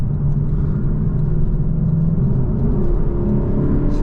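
A Lexus LC500 in comfort mode accelerates onto the highway, heard from inside the cabin as a steady low engine rumble and road whir, loud and constant with no voices.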